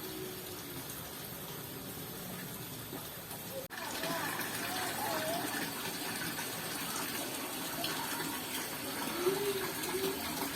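Water gushing at a mountain spring pool (sendang) on Gunung Lawu, Central Java, a steady close rush of flow with a brief knock partway through; a voice can be heard faintly in the background.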